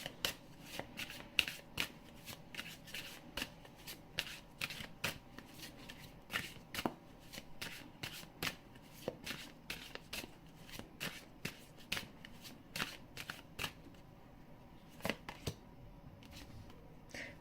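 A deck of tarot cards is shuffled by hand in a steady run of crisp riffling bursts, close and fairly quiet, continuing without talk and thinning toward the end.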